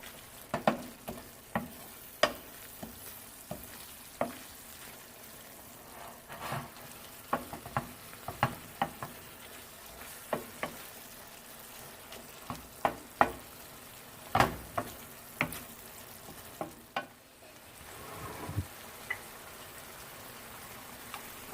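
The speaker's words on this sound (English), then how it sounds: "So now I'm just going to continue mixing and combining all of these ingredients well." Sloppy joe mixture frying and being stirred in a pan: a quiet, steady sizzle broken by irregular scrapes and clacks of a utensil against the pan, with no voices.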